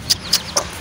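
A hen on a small backyard farm gives three short, sharp clucks spaced evenly over under a second, close and fairly loud above a soft outdoor hiss, with no speech.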